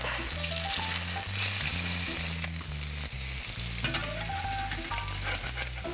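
Salmon fillets searing in a hot pan, a continuous steady sizzle held at a constant level, with background music and no voices.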